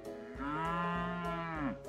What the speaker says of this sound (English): Okay, got some cows here.